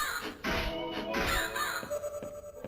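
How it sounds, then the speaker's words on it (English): Crows caw in a horror zombie video game, several harsh calls in bursts over steady ambient game noise, fairly loud and close. "I gotta pay more attention for birds."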